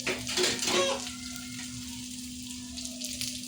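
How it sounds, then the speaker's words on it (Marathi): Prawns for Russian kebab frying in a pan, a lively crackling sizzle that is loudest early on and then settles into a quieter steady fry with a constant low hum in the background. "तर आपल्याला अशाच पद्धतीने बाकीचे पण फ्राय करून घ्यायचे."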